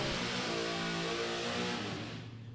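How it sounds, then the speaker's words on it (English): Naturally aspirated small-block Chevrolet Nova drag car revving hard at a drag strip, a loud steady high-pitched engine roar that fades slightly toward the end. "The sweet, sweet sounds of that high revving, naturally aspirated small block Nova."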